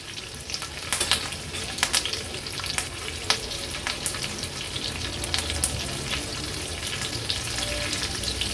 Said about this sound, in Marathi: फोडणी थोडी तडतडली का हे बघा